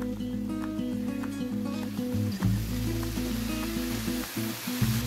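Kolmi greens added to a hot frying pan with turmeric and green chillies, a steady loud sizzle with a few stirring bumps, with no talking.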